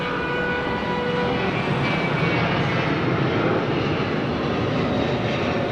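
A Qantas airliner in bare unpainted metal passes at Sydney Airport, its engines a loud, steady broadband roar that holds for several seconds with no talk over it.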